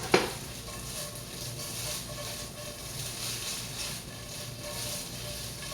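Onions and plenty of garlic sizzling in a hot frying pan, a steady, close frying hiss that holds evenly throughout after a brief knock at the start.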